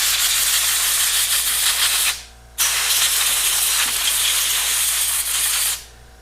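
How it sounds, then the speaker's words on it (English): Compressed air blasts a cleaned part of an old Mitchell fishing reel in a loud, close, steady hiss that stops briefly, resumes, then cuts off near the end. "little compressed air."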